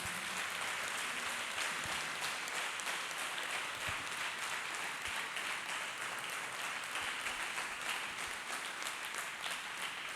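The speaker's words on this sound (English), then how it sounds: "Let us clap hands beautifully for Jesus." A church congregation claps hands together during a healing prayer service, a dense, steady wash of clapping that fills the whole clip with no break.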